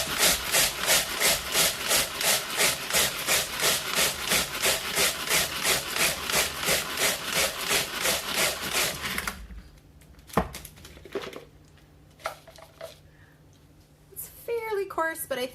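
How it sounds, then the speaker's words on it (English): A Tupperware Sonic Chopper grinding coffee beans with repeated pull-cord strokes, a steady rhythmic run of gritty whirring pulses for about nine seconds, then quieter handling clatter. "I'm gonna give it a bunch of pulls, and I'm gonna grind this up so that it's a fairly coarse grind."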